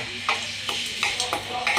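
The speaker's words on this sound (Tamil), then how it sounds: "நல்லா கிளறி விட்டுக்குங்க இந்த மாதிரி கிளறி வந்ததுக்கப்புறம்" A utensil scrapes and stirs through blood fry (blood poriyal) in a pan in quick rhythmic strokes, over a steady background sizzle.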